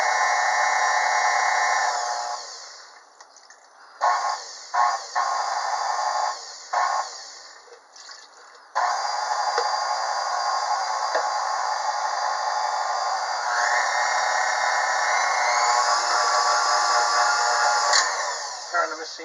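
Electric stand mixer beating strawberry-flavored cake batter with flour and milk, a steady high whine that stops and restarts several times before running continuously, loud and close, with someone briefly speaking.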